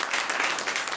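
Audience at a Diwali celebration hosted by the Brahma Kumaris breaking into loud, dense applause, a continuous wash of many hands clapping for the full second.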